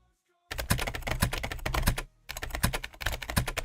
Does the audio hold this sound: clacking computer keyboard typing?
yes